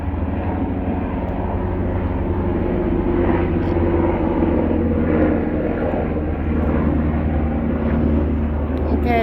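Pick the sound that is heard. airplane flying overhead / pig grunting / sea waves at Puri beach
airplane flying overhead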